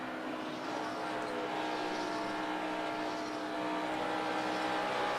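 NASCAR race cars roaring around the track at the 2015 Folds of Honor QuikTrip 500, a dense, continuous engine drone from the pack, steady and moderately loud with no distinct pass-bys.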